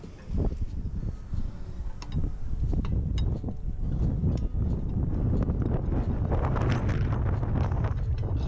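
Gusty outdoor wind buffets the microphone in heavy, rumbling bursts over a background of faint clinks and knocks, fairly loud and continuous throughout.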